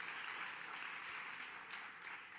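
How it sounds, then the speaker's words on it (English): Audience at a Super Bowl schedule announcement event in Nevada applauding a guest, a steady wash of clapping heard fairly faint and distant across the room, with no talk. "A round of applause for Peter."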